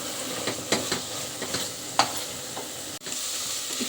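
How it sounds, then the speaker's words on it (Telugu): Ground masala for a Telugu-style mutton curry fries in oil in a pan, a continuous sizzle broken by several distinct scrapes and clacks of a spoon stirring, close up with no talking. "ఈ వాటర్ మొత్తం కూడా పోయేంత వరకు ఫ్రై చేస్తాను."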